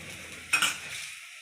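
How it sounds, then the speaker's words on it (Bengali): Potato paratha frying in oil on a pan, a soft continuous sizzle with a brief scraping stir in the middle, close and quiet with no talking. "এবার তেল দিয়ে ভাজছি"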